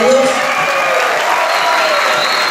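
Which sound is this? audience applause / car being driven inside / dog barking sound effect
audience applause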